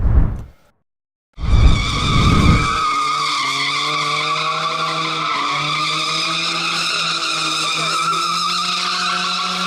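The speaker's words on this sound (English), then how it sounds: "This was a Zambia Motorsport Association organized drifting and speeding event at the National Sports Development Council, NASDEC." Cars drifting at a motorsport event at the National Sports Development Council in Lusaka, Zambia: a brief engine burst, a gap, then a roar settling into a long, loud, sustained tyre squeal with steady pitched tones.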